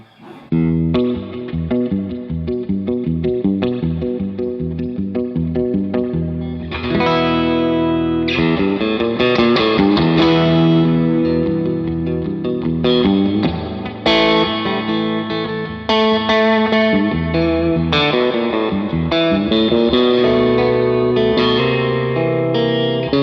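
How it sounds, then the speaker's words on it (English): Electric guitar played through a Todd Sharp amp drenched in reverb and chorus, notes ringing and washing into each other, loud and sustained with no talking. "And we got a lot of reverb."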